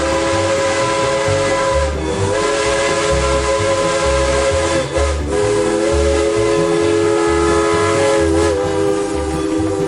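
A steam locomotive's whistle sounds loud and sustained over hissing steam and a low rhythmic chugging of the train, continuous throughout with no talk.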